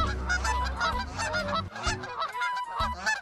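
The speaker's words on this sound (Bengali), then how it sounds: "ফাঁস ফাঁস করে উঠলো হাঁস দুটো" Two agitated ducks sitting on eggs give loud, harsh honking calls in repeated bursts, close and clear with no talking.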